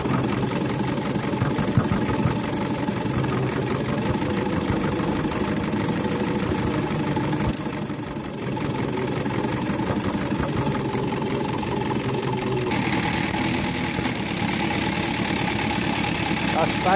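A 1:5 scale model steam truck, Martin, labouring up an incline in low gear: its machinery runs steadily and close, loud and even with a brief easing near the middle.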